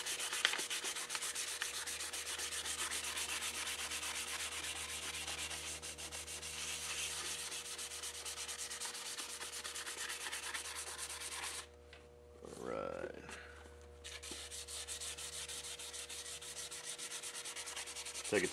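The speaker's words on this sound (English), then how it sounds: "I'm just going to go through with this little sandpaper here." Small sandpaper scuffs a shiny, glossy plastic box before painting, a soft continuous rubbing hiss that keeps an even pace, with a brief pause near the end before the scraping picks up again.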